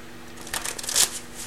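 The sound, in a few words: shuffling tarot cards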